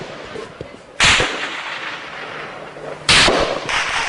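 Loud gunfire in a clash between soldiers comes as two sharp, heavy blasts about two seconds apart, each trailing into a long echoing rumble over a noisy outdoor background.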